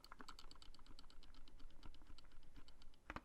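Rapid clacky keystrokes on a Razer Huntsman Mini mechanical keyboard, a steady rattling patter with a sharper, louder key hit near the end.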